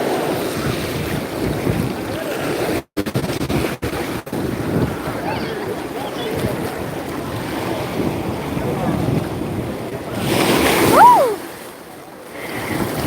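Ocean waves surge and break against rocks at Tiruchendur beach under a full moon, a continuous rushing roar with wind buffeting the microphone, a swell near the end and a brief voice.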